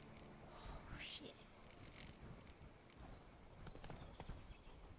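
Horse hooves clip-clop at a steady trot in The Witcher 3: Blood and Wine, a rhythmic hollow patter running through the whole stretch over a soft ambient game bed, with a few faint chirps up high.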